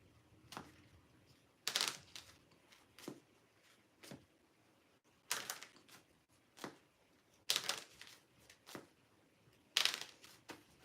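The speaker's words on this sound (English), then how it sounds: "Do a little bit of shuffling here." Tarot cards being shuffled by hand, repeated short crisp riffling bursts with quiet pauses between them, close and fairly soft, with no talking.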